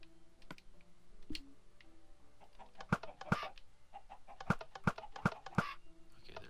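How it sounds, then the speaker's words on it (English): Chickens in the Minecraft video game give short clucks alongside scattered sharp clicks, likely keyboard or mouse, all close and moderately loud with no talk. "Okay, there's another chicken."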